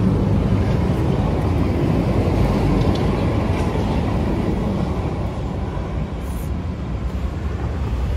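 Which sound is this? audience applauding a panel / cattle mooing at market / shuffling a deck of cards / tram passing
tram passing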